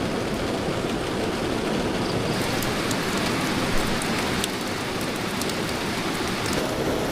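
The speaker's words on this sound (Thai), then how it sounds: "โอ้ฝน" Heavy storm rain drums steadily on the roof of a parked car at a reservoir, a dense, loud, unbroken hiss and patter with occasional sharper drop hits and no talking.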